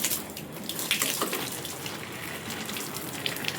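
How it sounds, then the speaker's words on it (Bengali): Water spraying over potted plants, including small bonsai, on a rooftop garden, a steady close rushing hiss and splatter lasting the whole few seconds, with no talking. "তো এখন একটু জল দিয়ে দিচ্ছি গাছগুলোতে ভালো করে"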